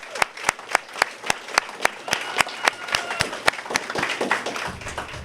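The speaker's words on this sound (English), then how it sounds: "let's give the committee that helps put this together another big round of applause." Applause from a crowd at an outdoor Fourth of July ceremony with a car caravan honoring local heroes, a round for the organizing committee: scattered, fairly sparse claps with sharp individual hits, thickening toward the end.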